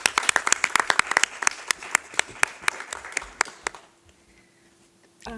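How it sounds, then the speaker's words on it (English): A small group applauds at a school board meeting, with separate sharp claps that thin out over about four seconds and stop, leaving a quiet room before a brief rustle. "And a round of applause."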